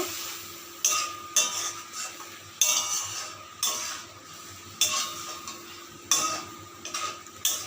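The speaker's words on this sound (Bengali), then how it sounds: "লঙ্কার গুঁড়োটাকে মিশিয়ে নেব" Lote fish fries in a pan while chili powder is stirred in, with a soft sizzle under repeated sharp scrapes and clinks of a utensil against the pan, spaced about a second apart.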